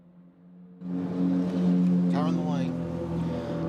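Race car idling and pulling through the pit lane at Queensland Raceway, a steady low engine drone rising from quiet to a sustained, moderately loud rumble below a commentary tower, with talk over it.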